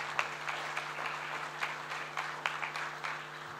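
Conference audience applauding at the close of a session, a steady wash of clapping heard from within the hall, moderately loud and continuous with a few sharper claps standing out.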